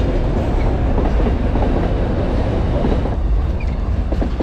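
A train passes nearby on railway tracks in a wooded area of Paraná with a loud, continuous rumble and rattle of wheels, steady throughout and without speech.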